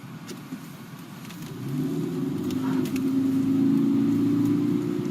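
A car accelerates onto a Minnesota highway, its engine hum rising and steadying at close range, with faint clicks and rattles inside the cabin.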